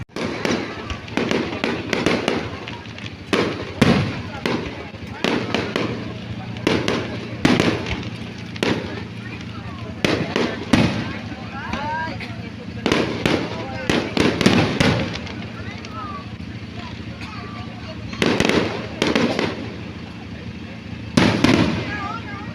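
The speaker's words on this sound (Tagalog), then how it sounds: "It's a fireworks." A fireworks display at the Capiztahan 2023 festival bursts and crackles in repeated loud explosions at irregular intervals, some in quick clusters, with people talking and exclaiming between the blasts.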